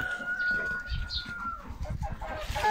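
Crested chickens and a rooster clucking in a farmyard, a mix of soft overlapping clucks and short calls at moderate distance, with a faint steady tone in the background.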